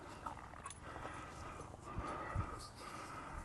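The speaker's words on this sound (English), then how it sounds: "Why are you barking?" A dog barks and huffs in short bursts amid a busy, noisy backdrop, sounding fairly close, while a person calls out nearby.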